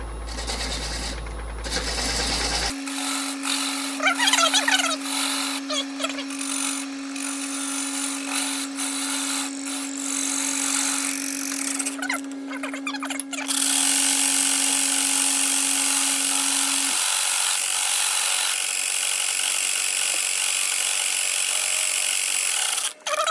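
A bowl gouge cuts into salvaged maple spinning on a wood lathe at about 600 RPM, giving a continuous close scraping and rubbing over the lathe's steady hum, louder and broader in the second half.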